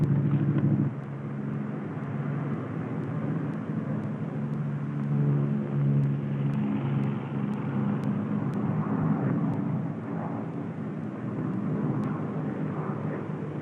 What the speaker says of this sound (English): Hey, one engine's quit. You still got another engine.